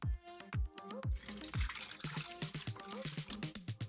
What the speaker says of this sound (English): We fill one with oil and one with water.